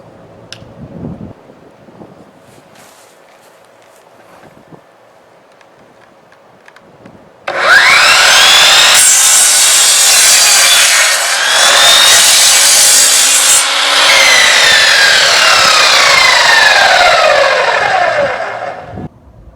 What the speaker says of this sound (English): I was very pleased with the very first cut of this Admiral compound miter saw